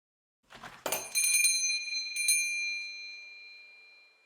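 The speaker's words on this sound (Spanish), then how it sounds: "La campana de los Pretty 80s soltó un tintineo metálico." A metal shop door bell tinkles brightly, a quick cluster of jangling strikes followed by a second light jingle, then a clear ringing tone that slowly fades, heard alone and close.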